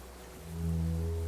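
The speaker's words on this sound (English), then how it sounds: "Distant sound of cargo ships." Distant cargo ship signal horns from the video game Disco Elysium, a low steady horn drone swelling in faintly over water ambience and holding on, with no voices.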